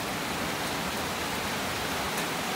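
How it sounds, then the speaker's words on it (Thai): Rain falls steadily by the Chao Phraya river, a dense continuous hiss without pauses or voices. "เหนื่อยครับฝนอีกแล้วครับท่าน"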